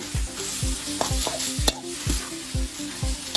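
Rice noodles with soy sauce (pad see ew) sizzle in a hot pan while a utensil scrapes and stirs in a steady, repeated rhythm, close and clear.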